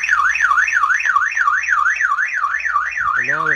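Fire alert alarm from a Blazender 320 fire protection system, a loud, steady warbling electronic siren rising and falling in regular sweeps, joined near the end by a second rapidly chirping tone.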